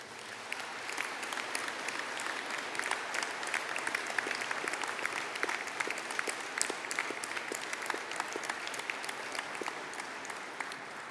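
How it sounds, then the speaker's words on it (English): At a university engineering graduation ceremony, a hall audience gives graduates a sustained round of applause, even and steady clapping from many hands lasting about eleven seconds without speech. "a collective round of applause."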